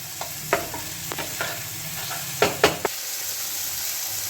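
Tomato masala for paneer butter masala, made without onion or garlic, is stirred in a pan as it fries. Soft sizzling runs under intermittent scraping strokes of the spoon, with a few louder clatters near the middle.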